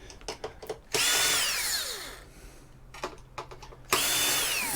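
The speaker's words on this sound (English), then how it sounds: "you just keep undoing screws until things start falling apart" A cordless power drill unscrews fasteners from scrapped electronics, giving two long whirring bursts with rising and falling pitch, separated by small clicks and clatter of parts and tools nearby, with no talking.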